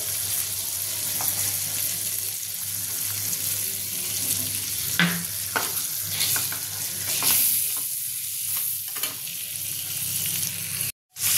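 Hilsa fish pieces lightly frying in a pan with whole slit green chillies, a steady hissing sizzle throughout with occasional soft clinks and scrapes, no talking.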